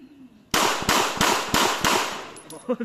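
Gunfire from a rifle, five sharp, loud shots fired in an even rhythm about a third of a second apart, following a brief quiet moment.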